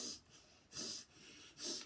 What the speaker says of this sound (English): Wait, let me sniff it all out.